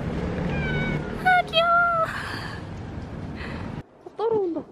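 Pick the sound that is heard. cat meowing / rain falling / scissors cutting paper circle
cat meowing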